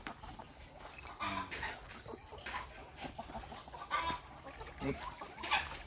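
Chickens cluck softly and intermittently at a distance around a pond between coops, with scattered bird calls and a faint insect-like hiss in the background.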